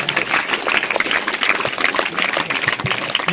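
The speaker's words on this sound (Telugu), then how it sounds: "గట్టిగా అభినందనలు తెలియపరుచుకుందాం చప్పట్ల ద్వారా" Students and teachers at a school meditation gathering clapping together, a broad crowd applause that stays loud and fairly even, with sharp individual claps standing out in the wash.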